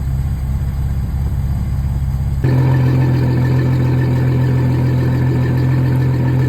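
An inboard boat engine runs steadily during winterizing, a close, loud idling rumble that shifts partway through to a firmer, more even drone and holds constant.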